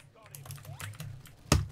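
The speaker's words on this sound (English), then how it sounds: "I just hit my keyboard" A hand accidentally strikes a computer keyboard during a Roblox game, a single sharp loud clack near the end after soft background game sounds.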